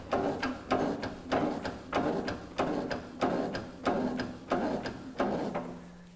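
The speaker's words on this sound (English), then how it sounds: "Once engaged, pump our handle." A DTP04 side-shift drum lifter's hydraulic handle is pumped in about eight steady, evenly spaced mechanical strokes, each a close clunk with a ratcheting rasp. No one speaks.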